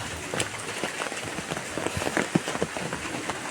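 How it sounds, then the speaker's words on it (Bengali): Very heavy rain pours down steadily in a village vegetable garden, a dense close hiss with scattered sharper drops striking surfaces. "আর খুব খুব ভারী বৃষ্টি হচ্ছে"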